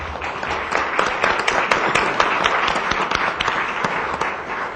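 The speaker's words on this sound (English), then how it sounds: "please give a round of applause to our German jazz band, the students" Audience applause for a German student jazz band at a Wheat Ridge city council meeting, dense steady clapping from a crowd, close and loud, lasting throughout.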